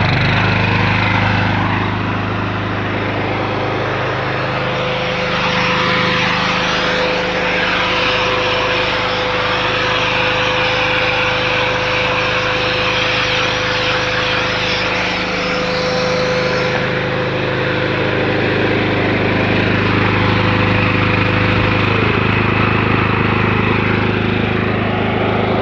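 A Kohler SDMO 6000 HX home generator runs continuously, a loud, steady engine drone with a constant electrical hum, the pitch shifting slightly partway through as load changes.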